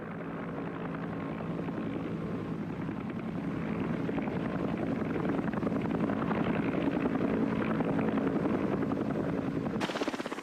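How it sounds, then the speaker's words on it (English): A medevac helicopter in the Vietnam War, heavy rotor chop and engine drone held steady and loud for about ten seconds, swelling slightly as it nears, then cut off abruptly. "a wounded man could expect to be picked up by medevac helicopter in less than half an hour"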